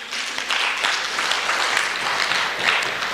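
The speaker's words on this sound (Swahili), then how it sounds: "Aya, nipigeni makofi tena." A crowd claps steadily for about three seconds, a dense, even patter of many hands with no voices over it.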